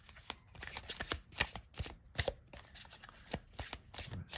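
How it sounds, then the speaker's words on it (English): A deck of oracle cards is shuffled by hand, with a rapid series of crisp, close riffling flicks and soft slaps, quiet and repeated in uneven bursts with no talk. "Let's just give it a bit of a shuffle, but we'll pull a card"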